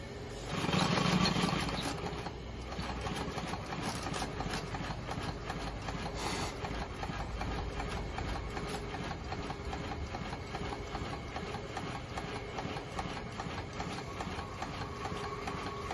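A Maxitrak Ruby live steam locomotive runs on a rolling road, giving a steady, fast mechanical chuffing and clatter that holds constant throughout, with a louder burst near the start.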